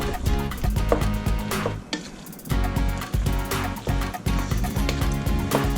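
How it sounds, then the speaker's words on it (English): Leftover pasta heats in a pan with a steady sizzle while a utensil stirs and scrapes through it in repeated strokes, with a brief pause midway. "Just have to heat that pasta through and we will be done."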